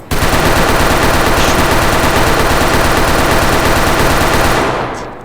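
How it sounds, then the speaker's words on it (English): Sustained automatic fire from a P90 in the Roblox video game, a loud, dense, continuous rattle of rapid shots lasting about five seconds before tapering off at the end. "we have a P90 as our primary gun, or the P95 Knight in the game"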